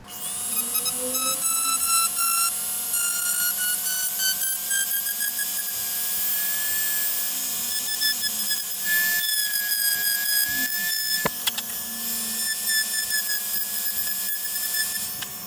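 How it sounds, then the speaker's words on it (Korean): An airsoft pistol nozzle being ground with a small high-speed rotary tool, a steady whining tone holding throughout, with brief shifts in pitch as the tool presses against the part. "이제 노즐만 빼서 한번 갈아 보겠습니다."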